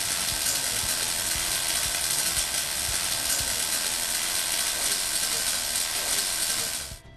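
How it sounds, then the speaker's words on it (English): Unstable arc from RMD welding on carbon steel pipe, with travel speed too slow and the wire too far back in the puddle: a loud, continuous harsh crackling buzz that runs steadily and then cuts off abruptly near the end. "If the travel speed is too slow and the wire is positioned too far back in the puddle, the arc becomes unstable"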